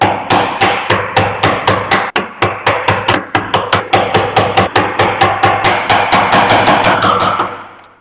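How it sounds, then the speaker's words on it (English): A hammer strikes a chisel into wood for a tee bridle joint in a fast, even series of sharp, close, loud blows, about three per second. The blows continue for several seconds and then stop. "So I put the chisel in there, went to chisel up, and I split the wood."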